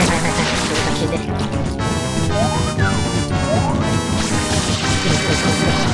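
Smashing and crashing effects from the Super Mario Sunshine video game, loud and continuous over busy game music, with a few sliding tonal chirps mixed in.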